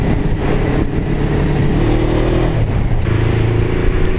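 A Honda CB500 motorcycle passes close and loud on a rough road, its mid-pitched engine droning steadily and shifting in tone as it goes by, with no talk.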